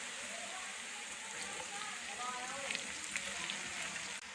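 A little water hits golden fried onions cooking with ginger garlic paste, setting off a steady, close sizzle and bubbling frying hiss.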